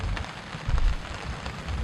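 Rain falls on a tent at night at a campsite on a hilltop, a soft, continuous patter with a slight swell in the middle, steady and close, with no voices.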